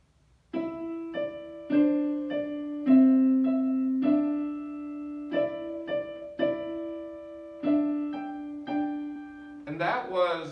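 "Mary Had a Little Lamb" is played as a fugue with overlapping melodic parts in clear, sustained, piano-like tones. The notes enter one after another, close and distinct, and end in a brief flurry.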